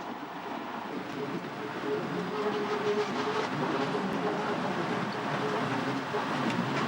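An Italian-built littorina railcar, one of nine supplied from 1934, runs on the Eritrean railway, giving a steady, continuous rumble and rattle of wheels and engine that holds at an even level throughout.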